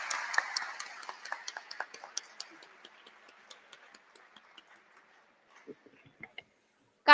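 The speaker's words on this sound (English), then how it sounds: "welcome our keynote speaker, our guest of honor, Sayyid Babar Ali, Dr. Zahoor Hassan, and Ma'am Huma Mirza with a huge round of applause" Audience applause at a graduation ceremony in Lahore welcomes honoured guests. Crisp claps start fairly brisk, then thin out into scattered, fading individual claps with quiet gaps between them.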